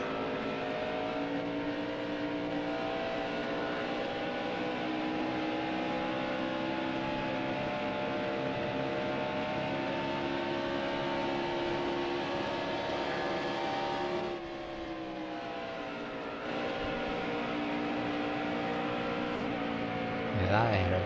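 A race car engine droning steadily through a lap at Pocono in a racing video game, a continuous loud high whine with a brief dip in pitch as it lifts off, while a voice talks over it.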